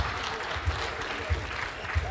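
Audience applause at a live comedy show, a dense steady patter of clapping with soft low thumps recurring every half second or so, moderately close and continuous throughout.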